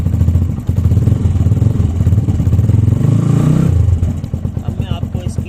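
A motorcycle started with its self-starter on a lithium battery runs at a loud, close, chugging idle that steadies, then falls away toward the end, with a clattering rhythm throughout.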